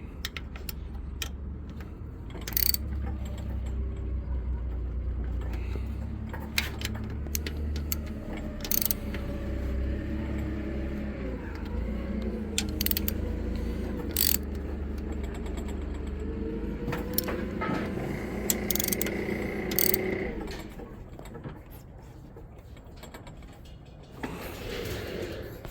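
Bolts being tightened in a cross pattern on a Predator 212 small engine, with a series of close ratchet clicks and metallic ticks spread over the stretch against a low background hum, no talking.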